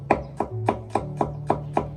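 A knife slices peeled garlic cloves into thin slices on a board, seven crisp evenly spaced chops in quick rhythm, close and fairly quiet, with no talk.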